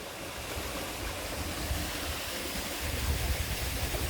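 Water of a waterfall pours over the edge from above, a dense continuous rushing roar heard close and steady with no talk.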